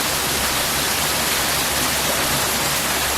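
Short, small waterfall in Japan with slightly dirty water, a continuous loud hiss of falling water heard close up, with no voices over it.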